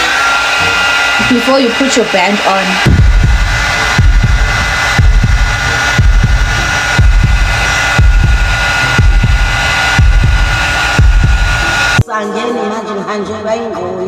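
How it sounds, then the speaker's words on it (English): A hair dryer blows steadily with a pulsing, throbbing hum while a person talks over it, then the blowing cuts off abruptly near the end. "you need to use a hair dryer again to make sure that it's completely dry"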